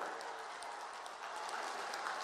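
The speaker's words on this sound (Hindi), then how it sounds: "फिर एक बार तालियां बजाइए भाइयों" Steady crowd applause at a public speech in Ghazipur, a dense wash of clapping that runs evenly and fairly loud for the whole stretch with no voice over it.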